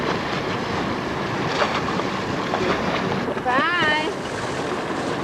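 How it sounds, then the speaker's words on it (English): A small dinghy approaching a chartered boat off St Martin, heard as steady outboard-like motor and water wash under heavy wind noise, with a brief voice near the end. "Here comes our dinghy."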